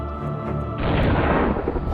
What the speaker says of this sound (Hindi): टेक्सास की एक फर्टिलाइजर फैक्ट्री की है, जहां अमोनियम नाइट्रेट से जोरदार धमाका हुआ